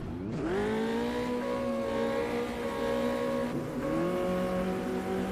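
Race cars launching at a race start in Automobilista 2 at Jerez, a pack of engines rising in pitch together as they accelerate away, sustained and fairly loud with a gear-shift dip near the end.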